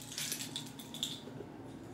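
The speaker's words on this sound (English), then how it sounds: "listen as soon as I grab these keys" A bunch of keys jingles and clinks as it is picked up, with a few quick metallic rattles close to the listener.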